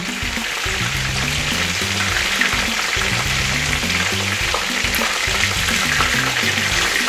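Crispy eggplant slices sizzling steadily in a hot frying pan as they are turned over, a loud continuous crackle with faint clinks of the utensil.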